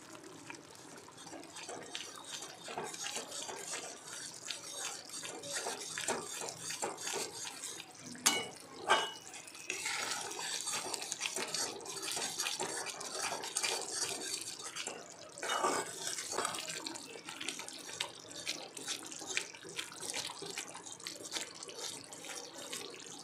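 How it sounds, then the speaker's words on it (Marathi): Water poured from a glass into a thick bangda (mackerel) curry in a pan, seasoned with turmeric, red chilli powder and Malvani masala, gives a steady close liquid pour and splash with faint clinks, with no talking. "आता याच्यामध्ये थोडंसं मी पाणी टाकत आहे"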